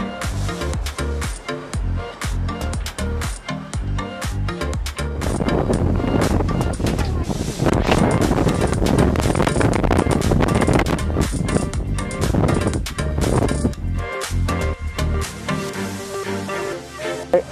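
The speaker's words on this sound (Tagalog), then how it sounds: "So grabe, ang hangin." Strong wind roars steadily across an open fourth-floor level of an adventure resort, loud gusty buffeting on the microphone that swells through the middle, with a voice talking over it.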